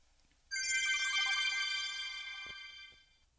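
Phone ringing in the video game FNAF Ultimate Custom Night: a single sustained electronic ring with bright, layered tones starts abruptly, holds steady for about two seconds, then fades out, with a dull thump near its end.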